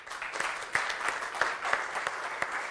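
Audience at a panel discussion applauding after a talk, a modest scattered round of clapping with distinct individual claps standing out, fairly close and without voices.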